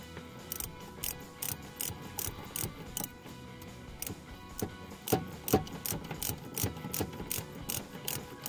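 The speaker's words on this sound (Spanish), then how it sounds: "Aquí está la llave. Nuevamente, llave de media. Bueno, media o 13 milímetros." A 13 mm wrench ratchets in quick repeated clicking strokes while tightening a bolt on a VW Beetle gear shifter, close and fairly steady with brief pauses.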